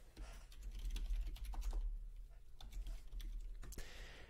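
Quick run of typing on a computer keyboard as a name is entered, a short flurry of close key clicks over a low background rumble, with no speech.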